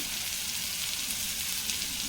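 Tomatoes fry in oil with a steady, close sizzle and faint crackling, continuous and with no voices.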